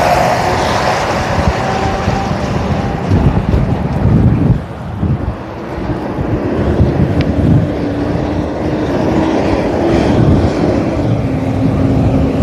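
Strong wind blows beside an Interstate 80 West on-ramp, heavy gusty rumble buffeting the microphone continuously, with the low drone of passing traffic running underneath and no talking.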